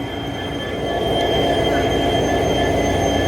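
A coal-fired steam train engine at Mariani Junction in Assam sends out a continuous close rumble with high whining tones that swells louder after the first second, with no talk.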